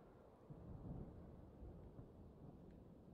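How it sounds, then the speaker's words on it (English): Low, rolling rumble of thunder in The Legend of Zelda: Tears of the Kingdom, swelling early and then grumbling on steadily, with no voices over it. "Yeah, I can hear the thunder."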